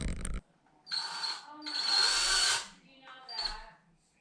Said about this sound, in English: I'm going to just pre-drill those 2 holes